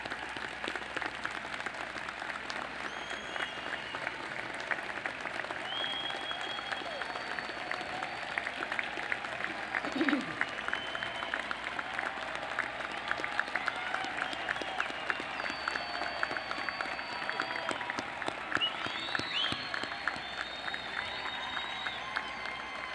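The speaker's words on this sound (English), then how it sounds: "ask that you now stand for a well-deserved round of applause" Audience applause at a university commencement ceremony for engineering, computer science and science graduates, a long steady rush of clapping from a large distant crowd in a big venue, with occasional cheers and whistles rising through it.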